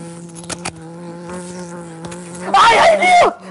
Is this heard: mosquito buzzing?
yes